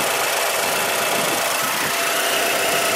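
A 2011 Mazda CX-7 with a 2.3-liter turbocharged four-cylinder idles steadily up close, a constant loud mechanical hum with light ticking and vibration and no pauses.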